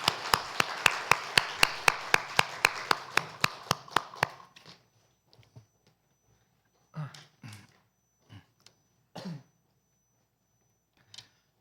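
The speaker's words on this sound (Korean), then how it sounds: "하나님께 영광의 박수 올려드립시다." Congregation clapping in unison in a church during a Sunday service, a steady run of about twenty sharp, loud claps that stops abruptly, followed by scattered soft knocks and shuffles.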